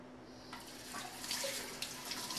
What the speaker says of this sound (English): I'm going to take them over to the sink and I'm going to rinse them out and get out all the seeds.